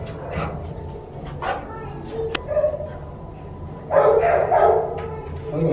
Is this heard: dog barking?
yes